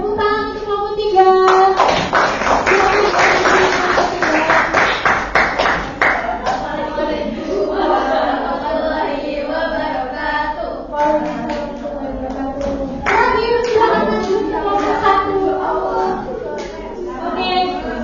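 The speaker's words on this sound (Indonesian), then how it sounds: "tepuk tangan untuk kelompok 3" Classroom clapping for a student group after its presentation, brisk bursts of hand claps that come and go among children's chatter and a teacher's voice.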